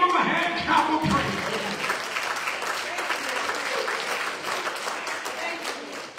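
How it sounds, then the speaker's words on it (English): Church congregation at a Baptist Sunday service clapping their hands in praise, a dense sustained wash of applause that keeps going through the whole stretch, with some voices mixed in at the start. "You ought to give him a hand clap of praise."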